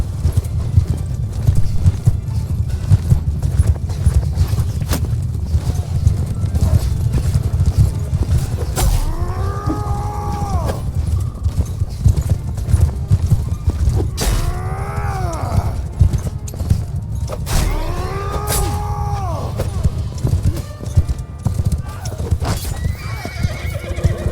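Horses in the video game Bannerlord gallop in a dense, loud, continuous clatter of hooves, with three clear neighs breaking through the drumming and faint battle noise underneath.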